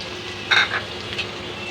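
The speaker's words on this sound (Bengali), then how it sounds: "তেল দিয়ে নিলাম এখন আমি এর ভিতরে এক কাপ মানে এক বাটি পেঁয়াজ কাটা ছেড়ে দেবো" Chopped onions going into hot oil in a pan for a pangas fish shutki bharta, a brief scrape and sizzle over a steady low frying hiss.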